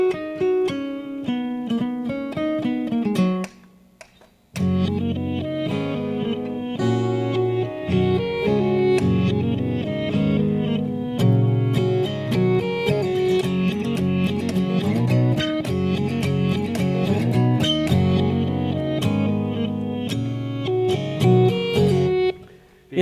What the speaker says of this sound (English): It's the sound of strings, but going the other direction.